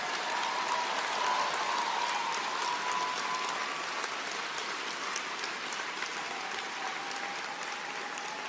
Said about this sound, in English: let's give Karina and the whole team who works with her so hard every day in the House Leader's office a huge round of applause